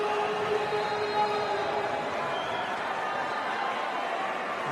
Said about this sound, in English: And the crowd get excited.